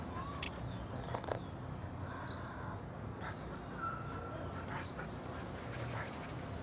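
A dog under training lets out faint, high whimpers and a few short yips over a noisy outdoor background, the sounds brief and scattered, with people speaking nearby.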